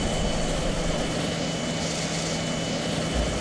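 A-4 jet's engine in the Strike Fighters 2 flight game, a steady broadband roar with a faint whine, continuous and even at close range, no talk over it.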